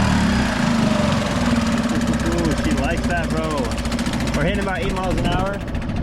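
A small Suzuki 2.5 outboard motor drives a kayak at part throttle with a steady, buzzing, lawnmower-like drone, while someone talks over it.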